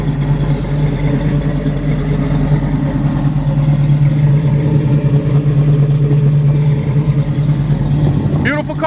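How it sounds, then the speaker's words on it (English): A 1964 Chevrolet Malibu SS engine runs steadily at a constant idle-like drone, loud and close, with a brief sharper sound at the very end. "Great running motor though."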